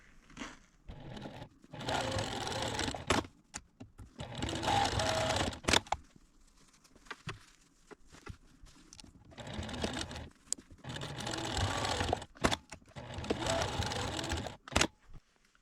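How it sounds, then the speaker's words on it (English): Home sewing machine double-stitching the seams of a fabric garment bag, running in several fast whirring bursts of a second or two each, separated by short pauses and small clicks. "I'm going to double stitch both of these seams."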